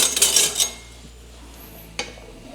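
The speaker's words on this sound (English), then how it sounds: "I'm gonna use the tongs instead." Metal tongs handling tortillas in a pan, a quick burst of clinking metal scrapes at the start, then quiet sizzle and one more sharp clink.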